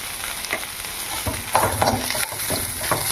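Ivy gourd fries Andhra-style in a pan with cumin powder and chili, sizzling steadily under repeated scraping and stirring strokes of a spatula.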